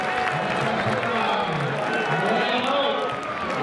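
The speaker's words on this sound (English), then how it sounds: "The crowd celebrating." A large crowd at a Swinton versus Toulouse rugby league match roars and cheers steadily after a try, a continuous loud wash of voices with a commentator speaking over it.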